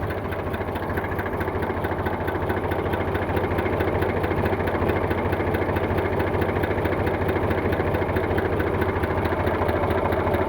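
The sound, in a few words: tractor engine idling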